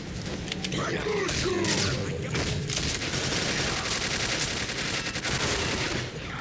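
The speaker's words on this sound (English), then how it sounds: "this machine gun is very powerful, especially if you're using the alternative single shot mode" Machine gun fire in the video game Quake 4, dense rapid bursts of shots crackling almost continuously with mechanical clatter, loud and close, while a voice talks underneath.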